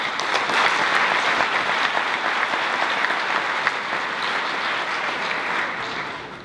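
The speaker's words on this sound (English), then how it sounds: "please, let's just start off with a big round of applause for all of you." A large audience at the Vancouver International Film Festival 2017 closing applauds steadily, a dense wash of clapping that holds strong for several seconds before tapering off slightly at the end.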